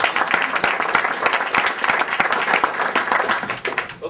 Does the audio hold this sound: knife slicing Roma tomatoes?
no